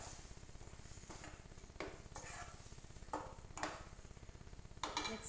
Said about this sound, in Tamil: நல்லா மிக்ஸ் பண்ணிடுங்க.